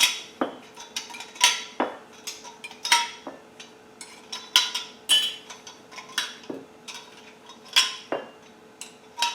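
Repeated metallic clinks and clatters of metal canning jar lids being handled and stacked for pressure canning, sharp and close, in an irregular rhythm with no talking.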